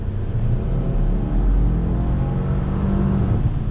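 A 2020 Subaru Legacy XT all-wheel-drive sedan pulls hard under throttle, its engine a steady, loud, close rumble that holds constant throughout without breaks.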